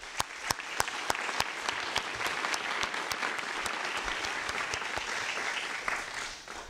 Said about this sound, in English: I'd like to ask the audience to join me in a round of applause for our distinguished panel.